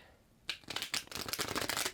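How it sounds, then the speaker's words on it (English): A deck of tarot cards is shuffled by hand, a quick riffle of dense, crisp fluttering snaps that begins abruptly after a quiet moment and continues close and fairly soft, with no voices. "So I do that when I shuffle my cards"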